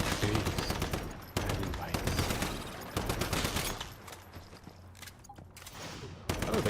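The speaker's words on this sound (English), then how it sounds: "the guns actually do seem to be shooting" Guns in the survival shooter Once Human fire in rapid automatic bursts, loud and close, with brief gaps between volleys and a steady background rumble.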